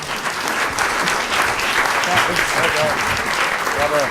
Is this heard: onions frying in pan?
no